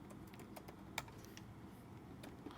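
Keys clacking on a computer keyboard as a folder name is typed for an expense tracker project, a quiet, steady run of light taps over a soft background hum, with one slightly sharper keystroke near the middle.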